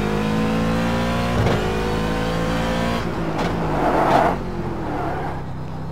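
A Corvette C7R Daytona Prototype race car engine in the iRacing simulator at the Daytona road course drones and revs through gear changes, with shifting pitch and a brief tire-like squeal, steady and close.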